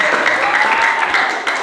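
A short burst of lively applause from a gathered audience at a Ramadan religious gathering at Masjid Arrohmah in Kokap, loud and close, clapping fairly evenly for under two seconds.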